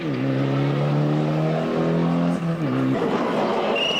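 Subaru Impreza rally car drives a stage of the 1997 Ypres Rally in Belgium, its engine revving loudly with stepped gear changes and a tire squeal near the end, with speech likely over the engine.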